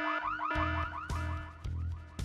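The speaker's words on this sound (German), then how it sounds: "Lösen wir mal Alarm aus." Cyclic electronic car-alarm-style wail sounding in the Full Throttle Remastered adventure game, loud and close, with sweeping tones and repeated thumping bass pulses at regular intervals, no talking.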